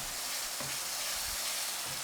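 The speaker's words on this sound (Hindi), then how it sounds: "और मटर डाल के हम इसको अच्छे से वापस से भूनेंगे" Boiled green peas frying in a pan for a cauliflower and pea curry, giving a steady close sizzle with faint stirring scrapes and no voices.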